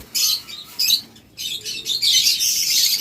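A pair of green Ewing opaline lovebirds chirps in quick, bright bursts close by, with short pauses between flurries and no talking.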